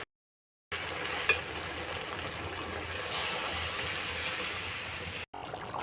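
Snail curry frying in hot oil in a pan, a steady close sizzle and crackle that runs almost unbroken for several seconds with a brief gap near the end.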